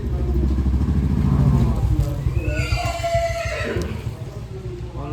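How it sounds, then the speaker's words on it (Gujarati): A Kathiawari horse at a stable gives a loud, close whinny rising over a steady low rumble, while a second horse or movement clatters faintly in the background. "ઘોડો અવાજ કરે છે."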